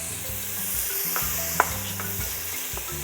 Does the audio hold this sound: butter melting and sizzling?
yes